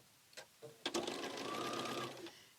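A sewing machine stitches onto a fabric tag and across a seam, a few quick clicks and taps leading into a close, steady whirring run that stops sharply.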